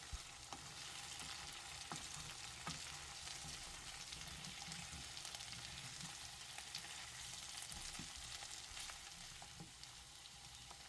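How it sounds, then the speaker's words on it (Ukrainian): Potatoes fry with chopped garlic in a pan, giving a continuous, fairly quiet sizzle and crackle with scattered small pops throughout, and no voices. "Картопля смажилась десь 10-15 хвилин. Додаємо подрібнені 3-4 зубчики чеснику"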